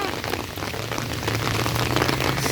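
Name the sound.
rain falling while walking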